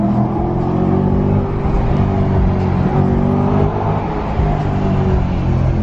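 A Ferrari LaFerrari's engine revs nearby, a steady loud roar that holds with slight swells, with no talk over it.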